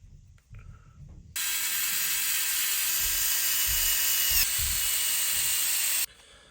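A power driver whines steadily for about five seconds, sending screws into the plastic differential housing of a Traxxas Maxx RC truck, with soft handling noises before and after.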